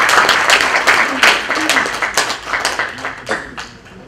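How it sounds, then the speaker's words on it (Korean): A church congregation claps together in a dense burst of applause that slowly thins and fades over a few seconds. "여성장님과 한국인들의 긍정의 박수 부탁드리겠습니다"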